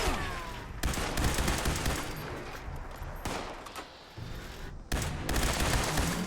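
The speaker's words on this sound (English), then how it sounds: "Are they shooting at me from all over there?" Dense gunfire in the Fallout 76 video game: continuous bursts of automatic and overlapping shots with brief breaks, loud and steady throughout, no talking.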